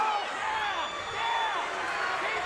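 A fight crowd in the arena rises to its feet cheering, a broad roar of voices swelling and fading while a commentator talks over it.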